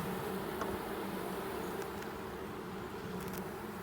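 A dense, steady hum of many honey bees buzzing together in a concrete hive, soft and continuous, with a few individual buzzes passing close.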